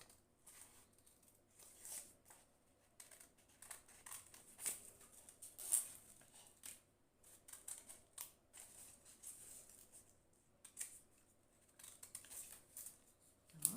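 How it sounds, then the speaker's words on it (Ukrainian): Scissors cut along a drawn line through paper to make a fir-tree cutout for a winter landscape appliqué, giving quiet, irregular snips and rustles in short bursts with brief pauses between them. "вирізали ялинку, поклали ножиці, розкриваємо"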